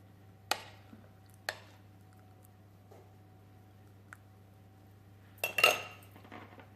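A moistened spoon works food in a pot, giving a few sharp metallic taps and clinks spaced apart, then a louder scraping cluster near the end over a low steady hum, with no talking.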